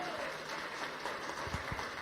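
A church congregation applauds at a family gathering service, a steady, fairly faint wash of many clapping hands sustained throughout with no speech.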